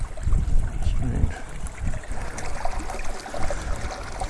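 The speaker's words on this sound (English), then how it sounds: "we're crossing a river" A Dartmoor river rushes and trickles nearby as hikers cross it, a steady watery wash under heavy wind buffeting and footsteps, with speech over it.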